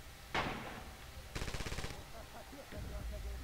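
Machine gun fire in a multiplayer war video game: a sharp single shot, then a rapid burst of about a dozen evenly spaced rounds, followed by softer thuds and distant rumble.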